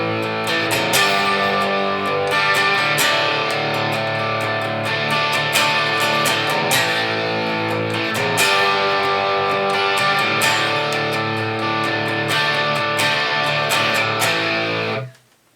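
Distorted electric guitar plays the chorus of a rock song, with loud, dense chords in a steady syncopated rhythm across three chord changes, heard alone until a sudden stop at the end.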